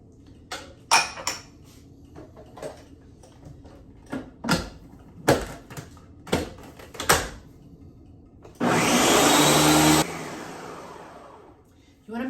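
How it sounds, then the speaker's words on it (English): Scattered clinks and knocks of kitchen items lead to a blender mixing cottage cheese brownie batter, a loud, close, whirring burst lasting just over a second before it stops. "So I'm gonna put that in and we're gonna blend that all together."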